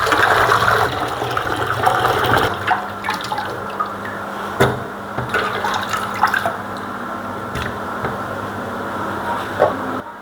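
Cut fish being washed under running water in a kitchen, a continuous splashing gush with scattered clinks and drips, close and fairly loud, no talking.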